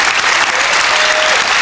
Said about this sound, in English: the crowd cheering both of these competitors on